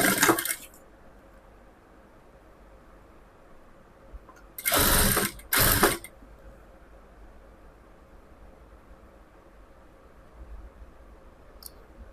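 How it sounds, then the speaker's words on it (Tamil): A sewing machine stitches white lace into the edge of a layer-cut top, with two short bursts of loud, close machine running around the middle, a brief burst at the start and a quiet room in between. "இப்போ இதில் நான் ஒரு ஒயிட் கலர் லேஸ் வந்து உள்ளார கொடுத்து தைக்க போகிறேன்."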